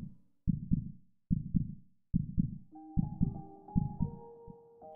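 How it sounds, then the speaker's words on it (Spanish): Rapid heartbeat sound effect evoking tachycardia, a series of deep, close double thumps in quick rhythm, joined partway through by a soft sustained tonal hum underneath. "Mencioné mi taquicardia."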